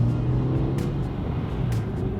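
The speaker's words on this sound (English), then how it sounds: "we're gonna take this car for a quick test drive to see how it is" A car engine hums steadily from inside the cabin on a test drive, a constant low drone with faint road noise and no distinct revving.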